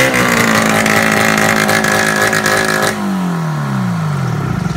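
A snowmobile engine with an exhaust bolt working loose from the front of the motor runs loud and steady with a raspy, leaky exhaust rattle, then the revs drop and the note sags lower as it idles down.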